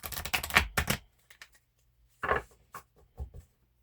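A large deck of cards being shuffled by hand, quick riffling bursts of crisp papery flutters, a long run at first, then shorter separate shuffles after a pause, close and clear with no talk.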